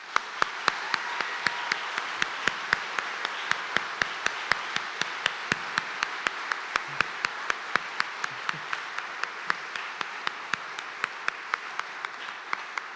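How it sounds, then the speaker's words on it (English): Applause from a keynote audience: a steady, moderately loud wash of many hands clapping runs for the whole stretch, with distinct sharp claps standing out in a loose rhythm throughout. "So please join me in giving them a round of applause."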